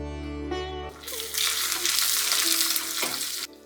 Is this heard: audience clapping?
no